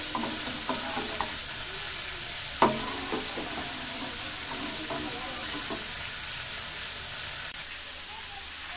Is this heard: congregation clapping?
no